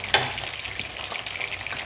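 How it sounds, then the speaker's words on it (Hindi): Peas and mixed vegetables fry in a pot with a steady, close sizzle and crackle, and a brief clink of stirring near the start. "और बस इन्हें अच्छे से हमने भून लेना है।"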